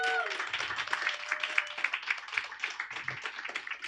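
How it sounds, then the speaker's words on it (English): Audience applause at a stand-up comedy show in Lviv's Cult Comedy Hall, a dense sustained clapping from a nearby crowd lasting throughout, with faint scattered voices mixed underneath. "round of applause for Timur"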